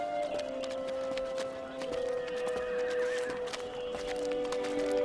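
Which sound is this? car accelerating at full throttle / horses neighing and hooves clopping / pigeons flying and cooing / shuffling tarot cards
horses neighing and hooves clopping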